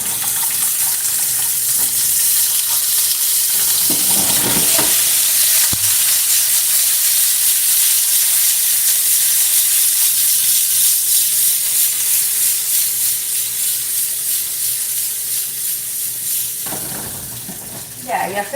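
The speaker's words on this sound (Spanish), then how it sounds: "Ya se le bajó todo el chillido, chicos." Rinsed, still-wet pasta fries in hot oil in a home kitchen, giving a loud, continuous hissing sizzle that stays close and steady, with a few clattering stirs and a slight easing toward the end.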